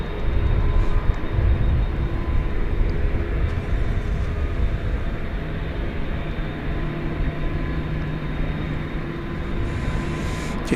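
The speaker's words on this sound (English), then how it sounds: "the MD-11 is now pushing back" An MD-11 pushes back at DFW Airport at night, its engines giving a steady, broad low roar and rumble with a faint high whine, continuous and moderately distant, with no voices.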